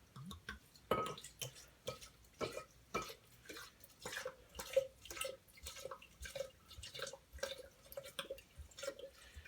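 Vodka, a little over four cups, is poured into a large infusion jar, heard as a run of quiet liquid drips and splashes in an irregular rhythm, faint and close with no talk.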